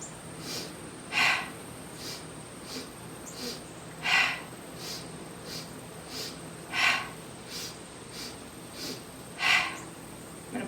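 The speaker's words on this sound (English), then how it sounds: "You can breathe out through the mouth." Breath of Joy breathing exercise, with forceful exhales through the mouth. Four strong airy bursts come at steady intervals of about three seconds, softer puffs fall between them, and a faint steady tone runs underneath.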